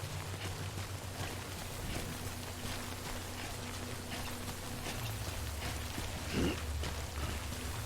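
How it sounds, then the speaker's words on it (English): Steady rain patters in the video game Death Stranding Director's Cut, a soft, even hiss with occasional low rumbles underneath, no voices present. "Oh, it's raining."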